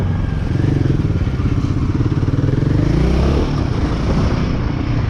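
A Royal Enfield Himalayan 450 motorcycle engine runs while being ridden, a loud, steady, continuous drone with a throbbing low beat that holds for the whole stretch.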